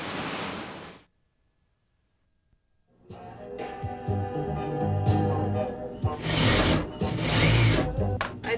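A sewing machine stitches in steady mechanical whirring bursts that swell louder and ease off, following a loud rush of noise and a few seconds of near silence.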